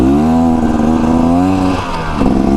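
A 2024 Beta Xtrainer dirt bike rides along a woodland trail, its engine loud and close with a steady buzzing drone that dips briefly as the throttle eases, then picks back up.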